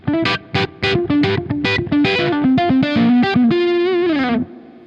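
Electric guitar through a Dumble-style amp with the overdrive maxed plays a run of short, choppy notes and chords, then holds a final note that bends downward and stops abruptly; loud, no talking.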